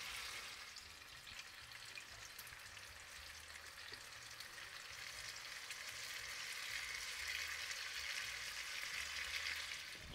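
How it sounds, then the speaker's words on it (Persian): Potato patty batter frying in hot oil in a home kitchen, a steady soft sizzle and crackle that grows slightly louder, with no talking. "آها، این شکلی بره تو روغن"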